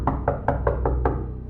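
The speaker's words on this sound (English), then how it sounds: "But the knocking continued." Six even knocks on a door, evenly spaced, loud and close over a low hum, part of a true horror story.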